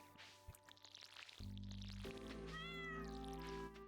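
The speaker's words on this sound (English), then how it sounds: "Why is my cat meowing?" A pet cat meows quietly a few times, drawn-out tonal cries rising and falling against a low, steady background hum.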